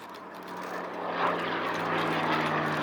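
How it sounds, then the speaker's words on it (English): A Supermarine Spitfire propeller plane flies at an air show, its steady engine drone holding at moderate distance and swelling slightly as it passes, with no talk over it. "Meanwhile, our Spitfire celebrates its victory."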